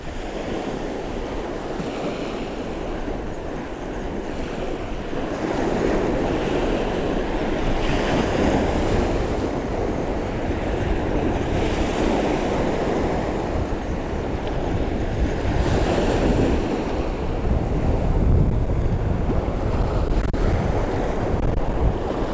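Steady roar of surf breaking on Eastney Beach, with swells rising and falling, mixed with wind buffeting the microphone; no voices.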